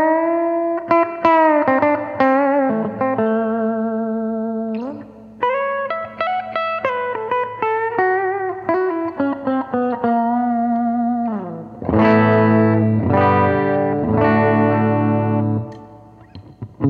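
Clean, jazzy electric guitar tone from a 1997 Gibson Les Paul Studio, picked single notes and chords with sustain and light effects, played up close and loud with no talking.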